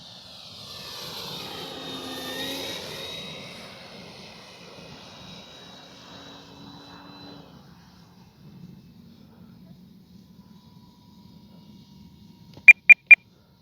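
A FlightLine F4U Corsair 1600mm RC model airplane flies by at half to three-quarter throttle, its engine whine rising and falling in pitch as it passes, fading into quiet wind, then three sharp clicks.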